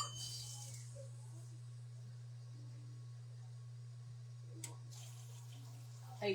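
A kitchen tap runs water into a cup, a faint, steady hiss under a low constant hum, with a brief clink and a small bump near the end.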